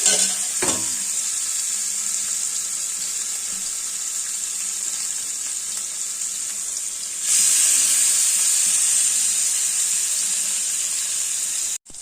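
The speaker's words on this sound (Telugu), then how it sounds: "ఇలా లో ఫ్లేమ్లో ఫ్రై చేసుకోవాలి" Marinated fish frying on low flame gives a steady, loud, even sizzle close by that continues without pause, growing a little brighter and more intense partway through.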